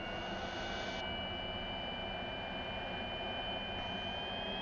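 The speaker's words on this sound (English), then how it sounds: "Engine starting and indicating" An L-39 Albatros jet engine in the DCS flight simulator game spools up with a steady whine and rising tones over a constant low roar, heard alone at moderate level.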